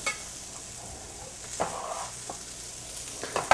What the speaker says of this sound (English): Now I'm gonna mix these around in this garlic.